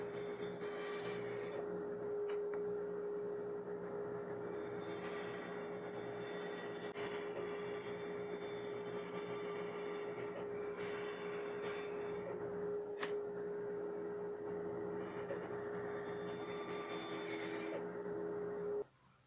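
A saw cuts through two stacked pieces of plywood for a blower housing, rasping steadily with a constant motor whine and periodic bursts of louder grinding, close by.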